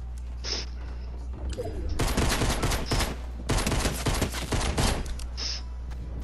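A pistol fired repeatedly in Fortnite, rapid bursts of close, sharp gunshots in two clusters, with game ambience between them.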